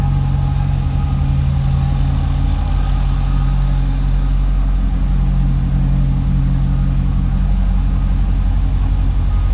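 A 2006 Chevrolet Corvette's supercharged engine runs at a steady, loud idle, a deep continuous rumble close by with no talking over it.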